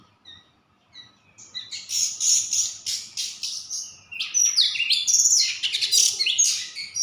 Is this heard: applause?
no